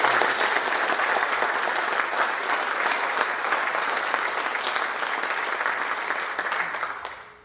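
Sustained, dense applause from an audience at a high school scholastic awards ceremony, steady and loud throughout before tapering off at the very end.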